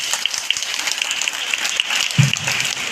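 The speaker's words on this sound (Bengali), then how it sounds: "আব্দুল্লাহ হোসেন স্যারের জন্য জোরে হাততালি দাও।" Steady applause from an audience at the Kishor Alo Kia Carnival for a speaker, a dense continuous patter of many hands clapping that fills the whole stretch, with a brief low thump near the end.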